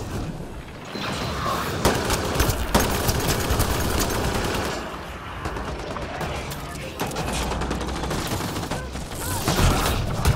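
Rapid automatic gunfire and heavy blasts in a firefight in the video game Mass Effect Andromeda, dense and loud throughout with bursts and brief lulls, under shouted combat voices.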